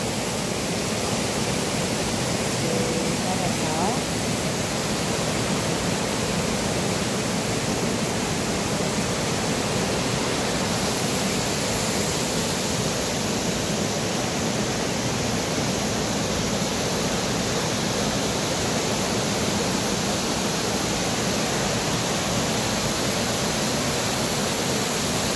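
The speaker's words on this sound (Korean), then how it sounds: "반갑다. 용추 폭포." Yongchu waterfall in the rocky Juwangsan gorge at Cheongsong roars with a constant, full rushing of water, close and loud, unchanging throughout with no voices.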